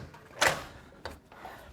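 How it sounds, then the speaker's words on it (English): A commercial fire door swings fully open during a building safety inspection, with a sharp clunk of the latch or hardware, a second softer knock about half a second later, and a faint bump after that. "this door fully swings all the way open"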